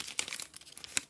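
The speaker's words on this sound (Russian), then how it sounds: "Вот этот пакетик. Так, открываем." A small plastic packet is torn and opened by hand, making quiet crinkling and crackling with a few sharper snaps, close by and without speech.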